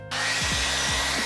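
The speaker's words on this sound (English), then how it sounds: "I'm gonna dry it, the blow dryer." A blow dryer dries ink on a printed t-shirt, starting abruptly and then holding a steady, loud, close whooshing hum alone, with slight pitch dips.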